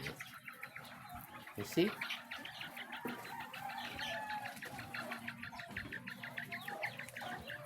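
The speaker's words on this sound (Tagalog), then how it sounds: "these are our quail bird already" White quail in a breeding pen chirp and call in quick, repeated bursts while someone talks over them, with a brief louder rustle early on.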